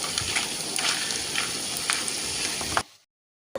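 Banana flower cutlets fry in hot oil, a loud dense crackling sizzle with bursts of popping, held close for about three seconds before cutting abruptly to silence.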